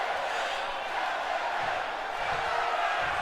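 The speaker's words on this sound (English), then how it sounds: "We got the LA Knight chants. The crowd squarely behind him." Arena crowd in the WWE 2K25 wrestling video game chanting for LA Knight, a dense, steady roar of many voices filling the whole stretch at a constant level, with no commentary over it.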